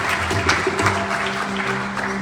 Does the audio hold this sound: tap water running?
no